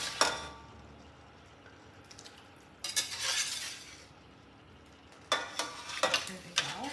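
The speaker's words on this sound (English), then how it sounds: "I'm going to now add my roasted vegetables." Roasted vegetables tipped into a pot of simmering fresh tomato soup and stirred in, giving bursts of wet scraping, clinking and bubbling separated by quieter gaps, close up with no voices.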